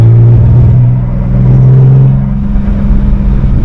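A BMW E36 on its first test drive gives a loud, close engine drone with a low tonal hum that rises and falls slightly as the revs shift, a continuous rumble filling the whole stretch.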